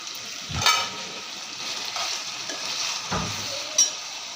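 Chicken pieces fry and sizzle in a pan over medium-high flame, with a soft steady sizzle broken by a few brief scraping stirs.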